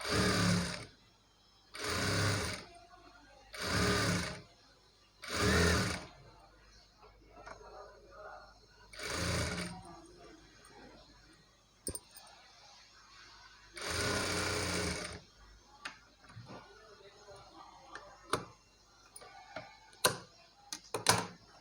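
A sewing machine stitches invisible piping onto sleeves in several short, fast whirring runs with pauses between, followed by quieter fabric handling and scattered sharp clicks.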